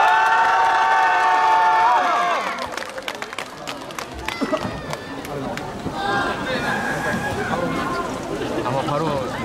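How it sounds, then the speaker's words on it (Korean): A crowd at an outdoor K-pop stage greets the six-member girl group Rocket Punch, starting with loud sustained cheering and screaming that gives way to scattered clapping, shouts and chatter under an announcer's voice. "로켓 펀치의 무대 큰 박수 부탁드립니다"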